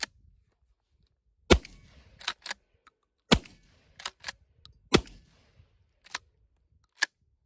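A TriStar Cobra III 12 gauge tactical pump shotgun fires several sharp, loud blasts, each followed by quick metallic clacks of the pump action being worked, with short pauses between shots.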